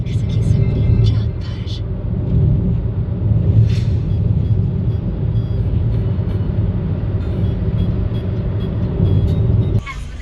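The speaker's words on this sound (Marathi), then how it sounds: "आता आपण गाडी चालवणार" A car on the road from Mumbai to Solapur, a steady low engine and road rumble throughout, with people talking over it.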